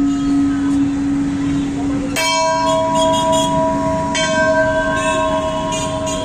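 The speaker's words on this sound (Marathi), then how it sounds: "खूपच छान घंटा आहे." A temple bell rings at Chandramouleshwar temple in Lohiya garden: a steady ringing hum gives way to a sharp metallic strike that rings on, with a second strike about two seconds later, both loud and close.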